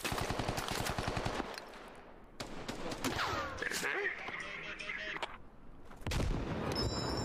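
A grenade blast in the military shooter Squad goes off amid heavy in-game gunfire, a booming explosion with a trailing rumble and debris, surrounded by bursts of rifle and machine-gun fire.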